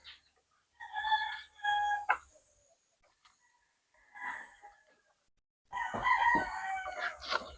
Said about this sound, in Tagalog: Mga gandang inahin niya.